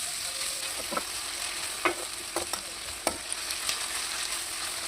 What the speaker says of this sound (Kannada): ಇದಕ್ಕೆ 2 ಈರುಳ್ಳಿನ ಕಟ್ ಮಾಡಿಕೊಂಡು ತಗೊಂಡಿದ್ದೀನಿ. ಇವಾಗ ಇದನ್ನು ನಾನು ಚೆನ್ನಾಗಿ ಫ್ರೈ ಮಾಡ್ಕೊಳ್ತೀನಿ.